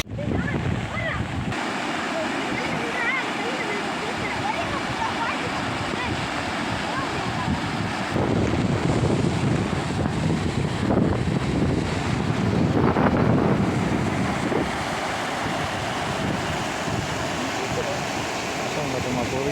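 Floodwater from a lake in the Veppur area, after heavy rain from Cyclone Fengal, pours in a heavy steady rush mixed with wind buffeting the microphone, swelling slightly toward the middle, with faint voices in the background.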